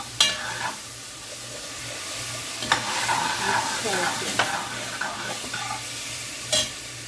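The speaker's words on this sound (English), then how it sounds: "just stir it in, fry it in the heat" Corn and minced garlic stirred in a pot over steady sizzling frying, with occasional scrapes and light clinks of a utensil against the pot.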